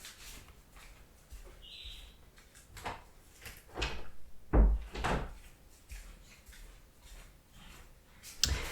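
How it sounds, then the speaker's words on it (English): A room door shuts with a few wooden bumps and knocks, then one solid thud of it closing, nearby, with faint bird calls in the background. "I had to close my door."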